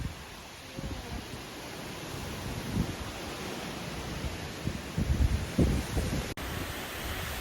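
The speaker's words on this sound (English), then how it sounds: "towards the top here at Tinker Cliffs, it's pretty windy." Strong wind blowing across the exposed top of Tinker Cliffs on the Appalachian Trail, a steady rushing roar with buffeting gusts battering the microphone.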